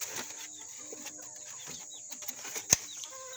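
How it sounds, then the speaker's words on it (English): Chickens scuffle and flap around boots on a farm, with soft clucks, wing rustles and one sharp flurry of flapping near the end, fairly quiet and close. "Chickens, I don't like y'all underneath my feet"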